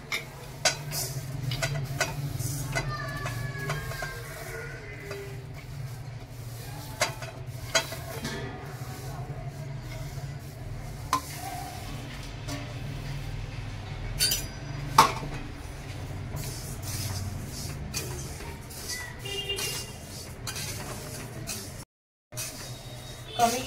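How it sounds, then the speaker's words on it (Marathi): Sesame seeds dry-roasting in a pan over low heat, stirred with a utensil in repeated scrapes and clinks over a soft continuous sizzle, close by, with occasional sharper knocks against the pan. "आणि साईड बाय साईड तीळ पण थोडं भाजून घेते।"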